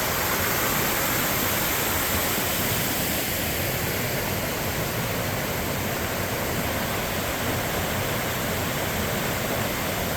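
Steady, loud roar of falling water fills the scene, a continuous broadband rush with no breaks and no voices.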